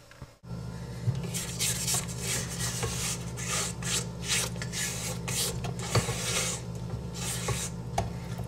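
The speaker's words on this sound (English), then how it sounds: "Scrape it down and make sure it's all well incorporated." Spatula scraping down the sides of a mixing bowl of chocolate chip cookie dough, a steady near rasping and rubbing with short repeated strokes and no talking.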